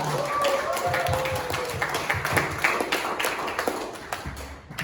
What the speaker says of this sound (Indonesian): Mari kita beri tepuk tangan sekali lagi untuk Kak Destika Natali Hasibuan.